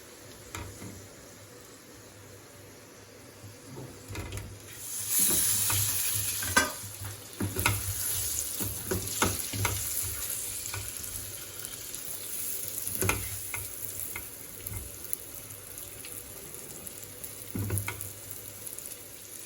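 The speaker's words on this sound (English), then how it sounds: "Now the seasoning is getting ready. Now we are going to put these rice balls, Undrallu, into it." Rice balls tossed into a hot pan of tempering with ginger and chopped chilies, a steady sizzle with repeated scraping stirs and clattering spoon strokes, close and fairly loud, no talking.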